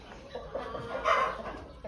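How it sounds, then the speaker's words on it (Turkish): A rooster on a farm gives a few clucks and squawks, moderately close, with a louder call near the middle amid faint background ambience and no speech. "Horoza bak hele sen"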